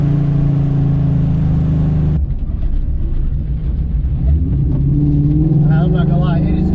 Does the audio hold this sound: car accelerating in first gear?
yes